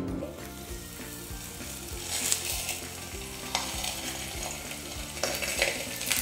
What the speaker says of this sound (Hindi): इसे हम सॉफ्ट हाथ से ऐसे करके तवे पर डालते हैं